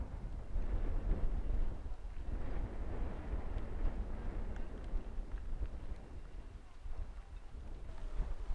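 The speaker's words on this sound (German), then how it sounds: "Ein rauer Wind weht hier durch die Gegend." Steady, rough wind buffeting the microphone outdoors on Norwegian tundra, a constant low rushing roar with slight gusts and no voices.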